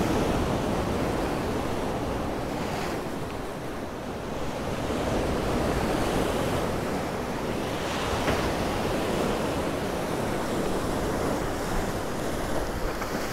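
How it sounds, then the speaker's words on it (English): Rough sea surf crashes steadily on the shore at Ciudad Jardín, Palma de Mallorca, a dense continuous roar of breaking waves with wind buffeting the microphone and no voices. "Oh, I love those waves."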